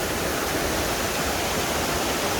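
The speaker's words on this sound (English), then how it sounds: "The waterfall is lovely and fresh." Khlong Neung waterfall on Koh Chang, swollen after recent storms, roars as a loud, steady, broadband rush of falling water close by, with no voices.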